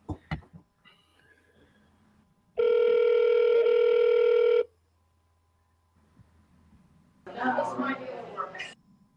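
A phone call goes out: a few soft clicks, then a loud steady dial or ring tone lasting about two seconds, a quiet pause, and a burst of a recorded voicemail greeting near the end.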